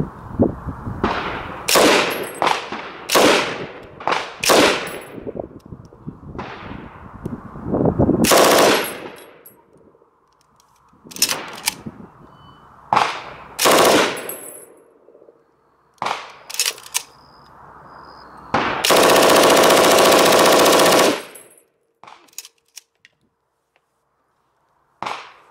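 An MG34 machine gun fires outdoors, first a string of loud, separate semi-automatic shots with echoing tails, then long continuous full-auto drum bursts, close and very loud with no talking.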